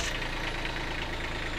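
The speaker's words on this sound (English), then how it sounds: "I'm going to turn it on for the very first time" A Kubota B2601 compact tractor engine runs steadily nearby, a continuous rumbling idle with a low knocking pulse, with no talk.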